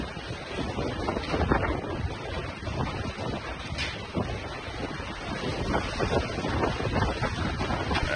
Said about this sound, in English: The wind picks up quickly in front of his house.